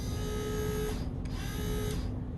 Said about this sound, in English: They're switching. The switch point is moving.